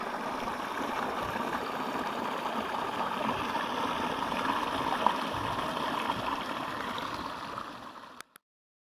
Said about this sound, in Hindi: जहाँ इस वाटर स्ट्रीम का पानी दाखिल होता है